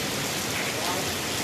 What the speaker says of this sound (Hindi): लेकिन अभी भी बारिश काफ़ी तेज हो रही है।